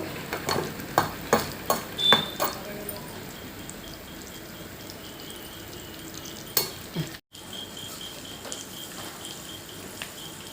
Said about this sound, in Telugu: వీటిని ద్వారగా వేయించుకోవాలి నూనెలో